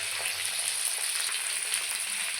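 Raw mango pieces fry in oil in a wok, giving a steady, close, loud hiss of sizzling with crackly bubbling throughout and no voices.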